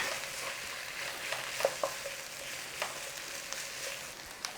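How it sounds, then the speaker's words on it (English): Tomato paste sizzles and fries steadily in a pot for a braised steak and gravy, with a few soft clicks and scrapes of a spoon stirring it through, close and fairly quiet. "Stir it in and we want to cook off the rawness of this tomato paste for about a minute"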